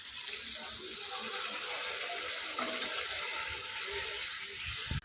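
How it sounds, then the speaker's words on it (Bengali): Water pours steadily from close by into a cooking pot of Bengali chicken kosha curry, a continuous rushing splash lasting about five seconds. "জল দিয়ে দিচ্ছি।"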